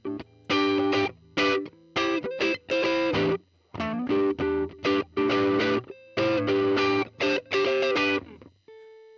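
An electric guitar on its neck pickup through a Line 6 POD HD500X, with a rounder tone, plays choppy, rhythmic chords in short bursts with brief pauses, loud and alone.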